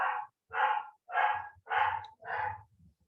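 A dog barks five times in a steady rhythm, each bark short and evenly spaced, fairly close and clear against a quiet background.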